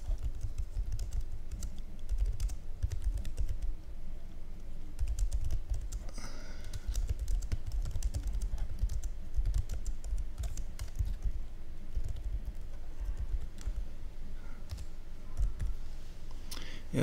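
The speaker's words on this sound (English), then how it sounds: "So I can type." Keys clatter on an Asus Chromebook Flip keyboard in quick, uneven bursts of typing that continue for well over fifteen seconds, close and crisp with no talking.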